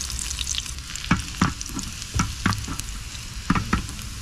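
Fried rice sizzles and crackles steadily in a hot pan inside a car, with repeated scraping clatters of a utensil stirring it at an uneven rhythm, close and fairly loud with no talking.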